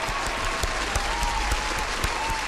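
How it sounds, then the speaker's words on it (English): A studio audience claps for a radio show quiz game, a loud, dense and steady burst of applause with sharp individual claps standing out, and no talk over it. "The louder you clap, the more chance you have of winning."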